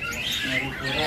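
A Nuri Dora lory parrot in a bird shop gives a continuous bright, shrill chattering call, fairly close and loud, with no talk over it.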